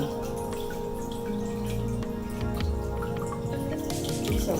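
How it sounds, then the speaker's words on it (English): Water dripping and trickling from squeezed summer tomatoes, a steady run of small close drips over a low background hum, with no talking. "If you squeeze it, more water is coming out."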